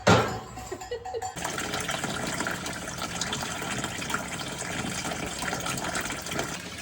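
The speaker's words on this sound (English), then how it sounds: "So I'm reheating some colostrum for a bottle using some warm water to do it gently so it doesn't curdle or anything." Warm water runs steadily from a tap to gently reheat a bottle of colostrum for a calf, a continuous close splashing gush that starts abruptly after a second and carries on alone without talk.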